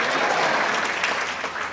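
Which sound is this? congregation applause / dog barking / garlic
congregation applause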